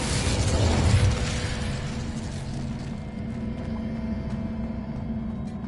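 An Incendio fire spell in Hogwarts Legacy bursts out as a roaring, whooshing blast that peaks after about a second, then settles into a steady rumbling hiss that continues to the end.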